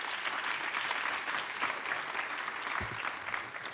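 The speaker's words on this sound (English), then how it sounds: "please give them a last round of applause" Panel audience applause at a discussion on tackling unemployment in South Africa, a thick, even wash of clapping from a seated crowd without pause.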